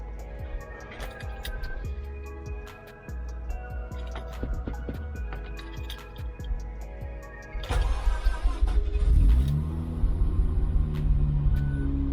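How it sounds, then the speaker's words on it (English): A Mazda RX8 rotary engine cranks and fires after ticking and clicking, then settles into a low, steady rumbling idle with a rising whine, close by. "we're gonna start this bad boy up."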